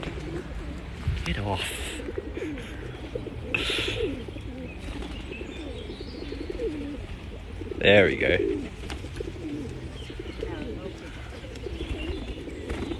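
Pigeons coo among flocking city birds in London, including parakeets, with soft cooing and chirps running through steady outdoor background noise while a person talks over them and a brief louder scuffle of movement rises midway.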